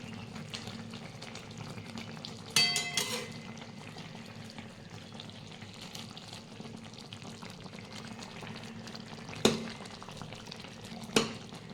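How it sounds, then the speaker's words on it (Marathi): Eggplants being turned over slowly one by one as they fry in a pan for a spiced eggplant masala, a soft steady sizzle with a few sharp utensil clinks and scrapes standing out. "अशा पद्धतीने सावकाश वांगे पलटी करायचे आहेत."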